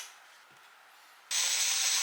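A drill drives self-drilling metal screws into aluminum framing with D brackets. After a quiet stretch a sharp, loud, steady high whir starts abruptly and holds close and alone.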